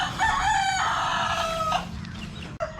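A rooster crows loudly and close by among chickens kept for regular care, a long drawn-out call followed by softer clucking and a brief bird cry, with no talking.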